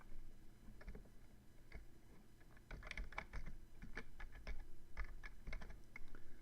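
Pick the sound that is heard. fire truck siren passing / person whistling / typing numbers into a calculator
typing numbers into a calculator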